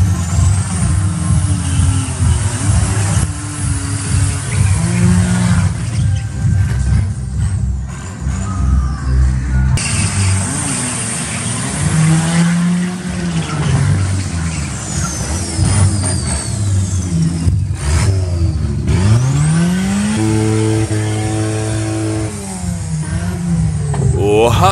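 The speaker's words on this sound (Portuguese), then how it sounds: "Mostra o pipoco pra nós." A car at a car meet revs hard again and again, the engine loud and close as it climbs and drops in repeated bursts.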